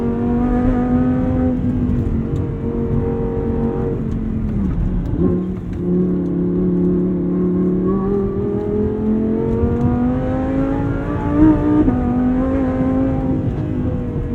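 An 850+ HP Audi R8 V10 Plus drives at high speed on a technical stretch of road, its engine a loud, steady roar from the cabin that dips briefly and then climbs again.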